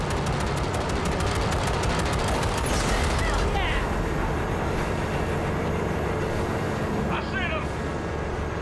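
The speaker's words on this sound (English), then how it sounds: "V, shoot out the damn coupler" Rapid gunfire aimed at a train coupler in the video game Cyberpunk 2077, a loud fast burst of shots over the constant rumble of a moving train, with voices talking in the mix.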